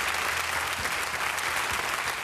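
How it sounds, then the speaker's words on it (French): Audience applause fills a French talent-show finale stage, a dense, steady wash of many hands clapping at close range, alone with no voices over it. "Je vous demanderai d'applaudir Sylvie pour cette belle performance"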